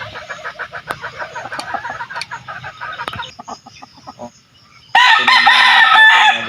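Chickens in a backyard coop, including sweater white-leg stags and hens, cluck and call rhythmically up close before a loud rooster crow bursts out and holds at the end.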